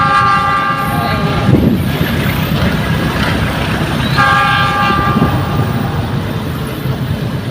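A train rumbles loudly past up close, with sustained horn tones sounding over the heavy, steady roar of the wheels.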